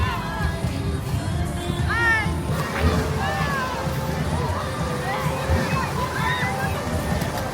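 Water sloshes and splashes continuously in a water park wave pool in Central Florida, amid a busy crowd, with excited shouts and children's squeals rising over the steady wash of waves.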